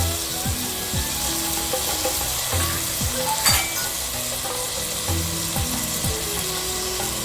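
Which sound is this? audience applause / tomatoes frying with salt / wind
tomatoes frying with salt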